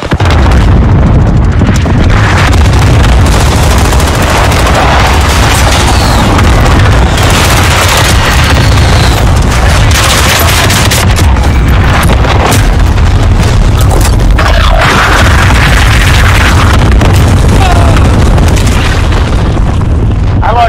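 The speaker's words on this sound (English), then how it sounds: "Be advised, friendly precision airstrike inbound." Precision airstrike explosions in the Call of Duty Warzone battle royale game come as a constant loud barrage of booming blasts and rumbling detonations, with faint voices beneath.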